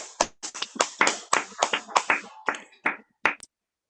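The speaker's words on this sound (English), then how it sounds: "Please, everybody, feel free to unmute yourself and give a big round of applause for Chad Parenteau." Sparse, uneven claps from a few participants in an online open mic reading who have unmuted, each sharp hand clap distinct and close, thinning out to a last couple of strikes.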